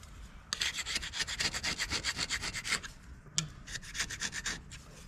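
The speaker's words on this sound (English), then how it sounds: "But that gets all that old gasket material off there." A tool scrapes old gasket material off a John Deere 4840 tractor engine block in quick rhythmic rasping strokes, close and dry, with a short pause before another burst of scraping.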